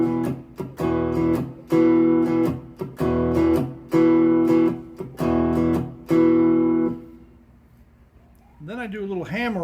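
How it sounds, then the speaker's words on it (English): Open strings of a cigar box guitar struck repeatedly in a bouncing strummed rhythm, close and bright, followed by a short stretch of quiet and then a few tuning-like sliding notes. "then I hit the strings again, open"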